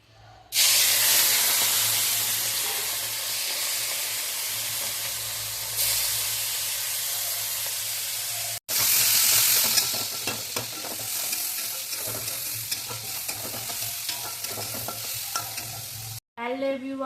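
Fish frying in a pan on a home kitchen stove, a loud steady sizzle with a brief break midway, then stirring clatter over the continuous spit and hiss; no voices.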